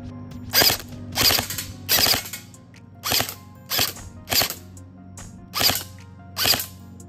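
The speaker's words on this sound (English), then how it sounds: "I think I'm gonna shoot a little bit more" Airsoft gun shooting BBs, about nine sharp mechanical shots with a spring-and-gear clack, irregularly spaced and close, over a faint steady hum.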